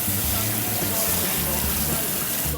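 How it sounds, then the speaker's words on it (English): Running water pours continuously as indigo is rinsed out of hair, a dense, loud, steady hiss and splash close by, with music playing faintly underneath. "so now I'm just going to rinse it out with water."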